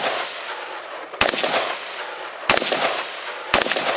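Pistol gunfire during a tactical shooting drill with an H&K USP: three sharp, loud shots spaced about a second apart, each ringing over continuous outdoor noise.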